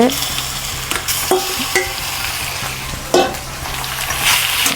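Chicken pieces sizzle steadily in a hot pan for Jaffna-style chicken curry, with a spoon scraping and stirring through them in occasional louder clatters, close and continuous with no talking.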